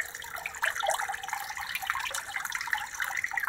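Water runs steadily over a Fox gold sluice table for fine gold recovery, a continuous close splashing flow with small gurgling fluctuations.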